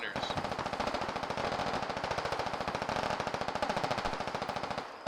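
Rapid, sustained automatic gunfire from the video game Squad, a dense machine-gun burst of evenly spaced shots rattling steadily for about five seconds, loud and close.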